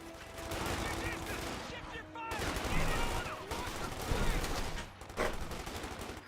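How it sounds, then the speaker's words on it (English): A .50 cal machine gun in Company of Heroes 2 fires steady, dense bursts of rapid gunfire with short pauses, loud and continuous, mixed with other battle noise. "The 50 cal has been obtained by some Panzer Fusiliers. Getting some good suppression down."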